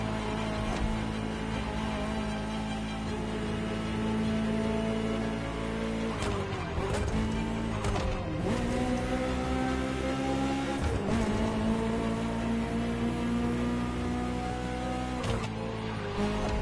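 A Ferrari engine drones steadily in the racing game The Crew Motorfest, a sustained loud hum with shifting tones and a few brief gear-change dips.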